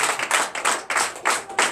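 A church congregation claps in rhythmic acclamation during a Sunday service, with about five loud, evenly spaced bursts of many hands in under two seconds, no voices over them.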